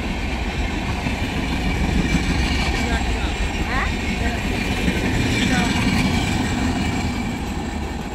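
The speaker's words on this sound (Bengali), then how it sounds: "ট্রেনটা দীঘা গেল" A train pulls away from Ghoraghata railway station with a steady, loud rumble and rolling roar that fills the whole stretch without a break.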